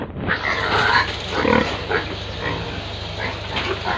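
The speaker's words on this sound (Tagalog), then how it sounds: "Ay, baboy lang mo te, natural." Pigs on a rural property in Quezon Province, Philippines grunt and squeal nearby with steady, rough, overlapping snorts, under a low background hum and with no clear talk.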